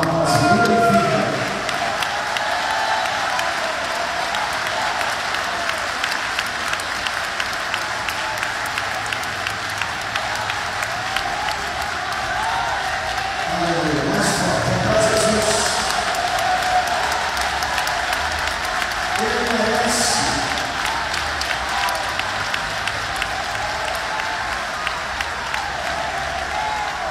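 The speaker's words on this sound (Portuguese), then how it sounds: "desocupem as mãos, batam palmas e glorificam" A church congregation claps and praises together in sustained, dense applause with a few louder swells of voices, filling the room steadily throughout.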